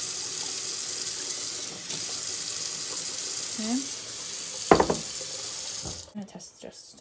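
Water runs steadily from a tap as a broad hiss throughout, with a brief clatter near the end and a short spoken word.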